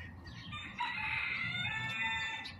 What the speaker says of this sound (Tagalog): Dito kasi maririnig mo yung manukan, mga birds, o diba?